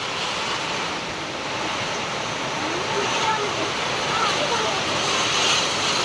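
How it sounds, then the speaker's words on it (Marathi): Heavy rain falls amid strong gusting wind, a dense continuous hiss that swells slightly toward the end, with a person talking faintly beneath the downpour. "एवढा जोरदार पाऊस चालू आहे सध्या"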